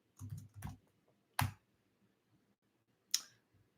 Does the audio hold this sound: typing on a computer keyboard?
yes